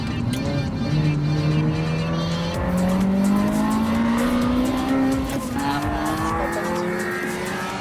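A Ferrari F355 GTS engine revs and climbs in pitch while tires squeal in long drawn-out skids, loud and close, with no talking.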